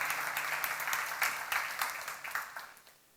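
A church seminar congregation applauds during a sermon on First Samuel, a burst of clapping with distinct sharp claps that thins and fades out toward the end.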